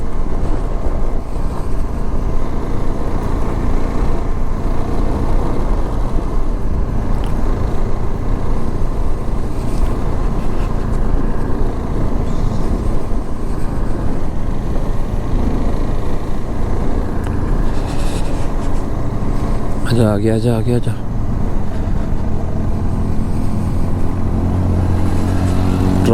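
A vehicle engine labours loudly and steadily as it climbs a low hill on a rough road in Ladakh, a continuous strained drone lasting throughout, with a brief voice calling out near the end.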